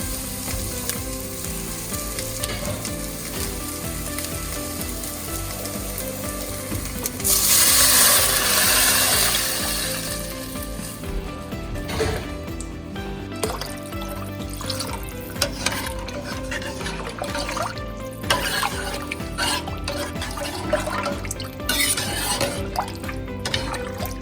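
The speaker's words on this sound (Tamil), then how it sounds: "நான் 6 டம்ளர் தண்ணி ஊற்ற போகிறேன்." Water pours steadily into a pot for a few seconds amid ongoing kitchen clatter and sizzling, followed by scattered knocks and stirring sounds.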